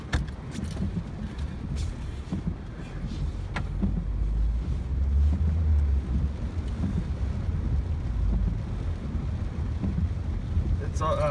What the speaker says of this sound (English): It's just a driving video in the dark rain. It's raining. I mean, it's pouring like a son of a bitch.